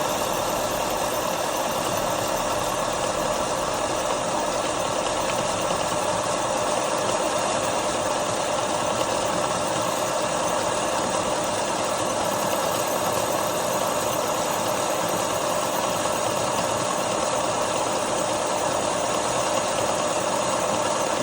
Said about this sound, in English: We are using a carbide cutter for this one, just because the material is quite hard.